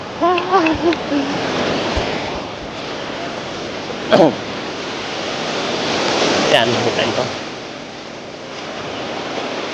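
Steady roar of surf washing in and out on Mielno Beach, Poland, with wind buffeting the microphone and brief speech near the start.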